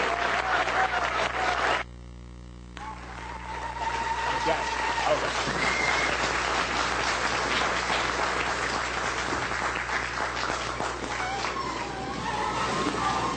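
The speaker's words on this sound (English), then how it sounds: "Let's give Dr. Bey a warm round of applause." An audience claps for a lecturer at a talk on Moorish Spain, sustained applause in a hall with a brief dip early on, while someone speaks briefly near the microphone over the clapping.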